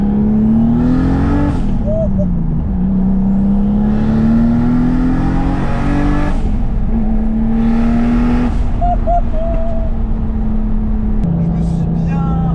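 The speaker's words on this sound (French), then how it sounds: "on va retester la voiture et on va tirer un poil plus fort" A turbocharged BMW E36 325i pulls hard through the gears, its loud engine climbing in pitch, dropping briefly at each shift and climbing again, close and dominant throughout.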